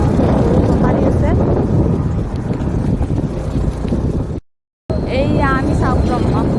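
Strong wind by the bank of the Brahmaputra river buffets the microphone in a loud, continuous roaring rush, broken by one brief dropout, with a voice faintly audible near the end.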